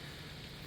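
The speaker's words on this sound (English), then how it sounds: "let's get out of this rain" Steady rain falling outdoors near shops in Pigeon Forge, a dense even hiss heard alone at moderate level.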